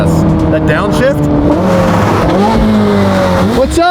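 Twin-turbo Ford GT engine revving hard on a downshift, loud and close, with rising and falling engine tones and brief blips as it drops gears, continuous throughout.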